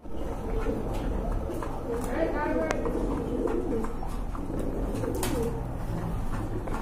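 A pair of large rasgolla pigeons of mili colour cooing at a bird market, soft repeated coos under ongoing talk and other birds' chirps.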